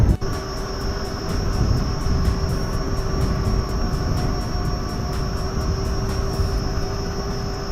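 Steady roar of headwind and motor whine while riding a Gotway Monster electric unicycle at speed, loud and continuous with a constant high tone throughout, no voices.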